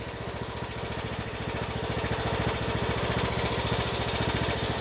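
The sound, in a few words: John Deere E100 riding lawn tractor engine running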